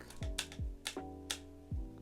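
Buttons on a Hello Kitty scientific calculator are pressed in a quick series of faint plastic clicks, each followed by a short electronic tone, with no talking.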